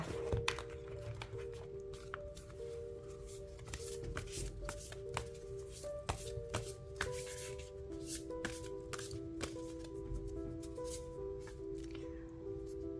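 Tarot cards are shuffled close up during a reading, with a soft, repeated riffling and slapping over about thirteen seconds and faint background sounds.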